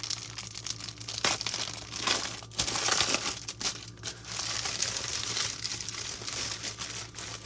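Plastic wrapping around microfiber cleaning cloths crinkling and rustling as it is handled and pulled open, with irregular crackling bursts, close and fairly quiet.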